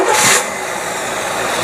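A marine boat engine fitted with a rebuilt Carter AFB carburetor catches with a short, loud burst that drops within half a second into a steady, rough running drone, heard close.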